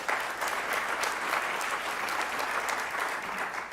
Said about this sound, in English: There's always time for applause.